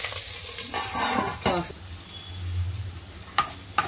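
Eggplant pieces sautéing in a pan for a Maharashtrian vangyachi bhaji, with soft sizzling under a few sharp scrapes and clanks of a spoon stirring against the pan, moderately quiet and close.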